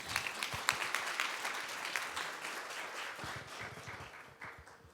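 Applause from a seated audience at an East Asian welfare-policy conference, a steady wash of many hands clapping at moderate distance that holds for the full stretch and thins slightly near the end.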